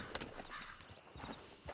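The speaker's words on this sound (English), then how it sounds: "Get on the horse there." In the video game Red Dead Redemption 2, a horse's hooves clip-clop in a quick, faint, rhythmic series of muffled thuds, with no speech over them.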